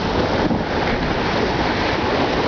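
Rough, choppy sea on a cold day during saltwater fishing for barracuda, heard as a steady, loud roar of waves and wash, heavily mixed with wind buffeting the microphone and no voices.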